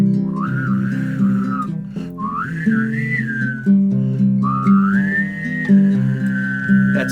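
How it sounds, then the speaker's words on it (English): A person whistles three sustained, gliding melodic phrases, clear and close, over a steady low drone. "Let's see if I can whistle in the morning."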